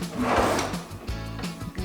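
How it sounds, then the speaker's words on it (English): A drawer in a home kitchen slides open with a wooden scrape and rattle, followed by a second shorter knock of the drawer moving, close by and fairly loud. "Let's check the drawers."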